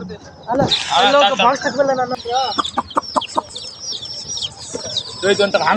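Chickens and chicks cluck and squawk close by in short bursts at a weekly market, mixed with chirps and some talking voices nearby.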